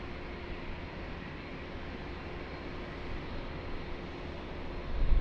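A large airliner taxiing at Lisbon Airport gives a steady, broad engine roar at a distance, holding even throughout with a slight swell at the end and no voices.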